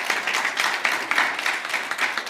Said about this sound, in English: just give her another round of applause